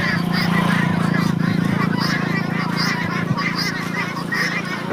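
Guinea fowl calling, a steady chorus of harsh, repeated honking cries that runs without a break, loud and close, with a busy flock murmuring underneath.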